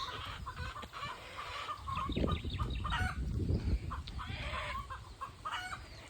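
A rooster on a farm clucks and crows over steady outdoor background noise, loud and close, with other fowl sounds around it and no talking.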